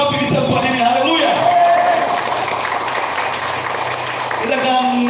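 A church congregation applauds together during a sermon, steady dense clapping that fills the room, with music or tones sounding along with it.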